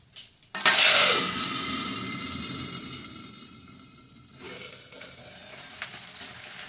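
Water hits hot oil spiced with cloves, black pepper, cinnamon and cumin for jeera rice, erupting in a loud sudden hiss that fades into a softer continuous sizzle, with a brief lighter splash near the end.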